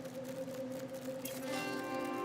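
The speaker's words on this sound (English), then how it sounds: "Yeah, I think that's the saving sound." Saving sound in a Katamari game on PS5: a quiet steady tonal hum, then a soft shimmering chime swell that enters partway through and holds to the end.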